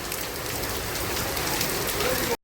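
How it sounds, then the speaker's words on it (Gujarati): Heavy rain pours down outdoors at a ring ceremony, a dense, steady hiss of drops hitting surfaces close by that cuts off abruptly at the end. "ફૂલ વરસાદ ચાલુ થઈ ગયો"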